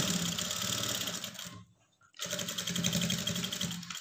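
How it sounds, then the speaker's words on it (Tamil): A sewing machine stitching a lining blouse, a rapid rhythmic mechanical whirr close up, broken by a short pause before the stitching resumes at the same steady pace. "பேக் ஸ்டிச் போட்டு போட்டுக்குங்க."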